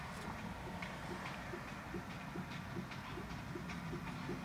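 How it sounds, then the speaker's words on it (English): A truck rumbles along the road close behind a car, a steady low drone with faint repeating clicks running through it, heard without any talk over it. "there was a truck behind us making this noise"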